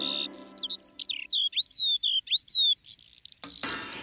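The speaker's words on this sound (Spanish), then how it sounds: "Si hago silencio yo puedo escuchar un pájaro cerca trinar." A bird trills nearby in a children's song: a rapid series of high, bright chirps and whistled notes with short pauses between them, close and clear. A brief burst of broadband noise comes near the end.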